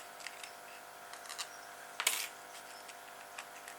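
A small metal nut drops and lands with a short bright clink, preceded and followed by faint light clicks from handling wires and a screw during a solar-powered zoetrope build, quiet and close.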